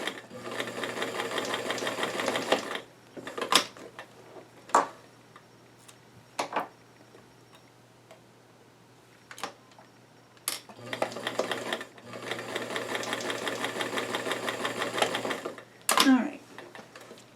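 A sewing machine stitching the pockets of doll jeans in two long, steady runs of rapid ticking, separated by clicks and pauses while a person speaks briefly.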